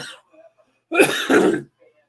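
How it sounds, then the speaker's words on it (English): A man gives a harsh, phlegmy double cough up close, two rough bursts in quick succession, with quiet room sound before and after. "Pardon me as I'm coughing a phlegm"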